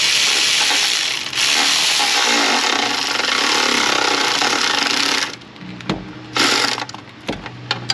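A ratchet on an 8mm wobble extension tightens a hose clamp under the hood of a Nissan Frontier 3.3 4x4, a loud rapid clicking run that stops, then a few shorter bursts and knocks.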